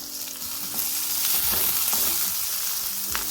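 Garlic, onions and ginger sauté in a pan with a constant close sizzle and a few light stirring scrapes, loud and steady throughout with no talking.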